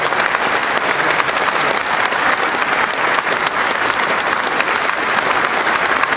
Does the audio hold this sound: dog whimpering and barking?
no